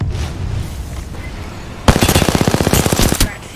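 Automatic gunfire in a first-person shooter game: a loud, rapid burst of evenly spaced shots lasting over a second, breaking in sharply after quieter background noise and stopping abruptly.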